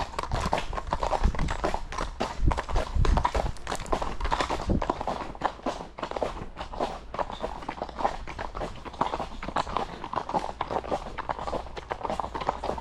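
A young one-eyed horse walks on an outing, its hooves giving a steady, fairly quiet clip-clop rhythm throughout with faint background noise and little talk.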